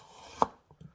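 A knife cuts through a red onion on a board, one crisp slicing crunch followed by two softer short cuts, close and alone.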